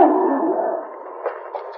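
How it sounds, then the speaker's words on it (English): A husky snarls and growls savagely at close range, one sustained rough rumble lasting under two seconds, with a couple of sharper snaps near the end. "they heard a savage growl."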